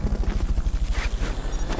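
Fulton recovery helicopter in the video game Metal Gear Solid Peace Walker, a loud, steady rapid rotor thump filling the whole short moment, with no talking heard over it.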